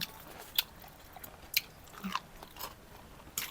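Chewing while tasting a mushroom curry with salmon: quiet, close mouth sounds with a few soft bites and wet chews scattered over a few seconds, no speech.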